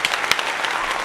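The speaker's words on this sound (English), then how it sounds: "let's give a round of applause to Tanya, aka my madrina in the house." Brief burst of applause and clapping from a small group in a podcast studio, short and moderately close, fading quickly.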